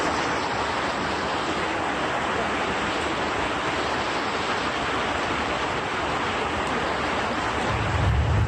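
Floodwater about 50 cm deep fills a Venice street, giving a steady, dense rushing wash that runs unbroken throughout, with a heavier low rumble swelling right at the end.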